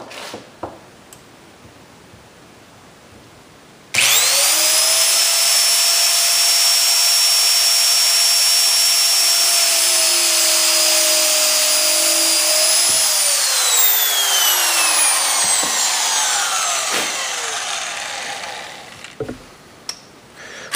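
A doweling machine bores dowel holes into wood, starting with an abrupt loud whine that holds steady for several seconds, then drops in pitch as the bit cuts and winds down, followed by faint knocks.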